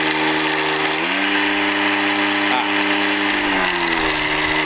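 A DeWalt DCST922 cordless string trimmer idles at low speed with a steady whining motor hum and a slight pitch rise partway through, close and continuous.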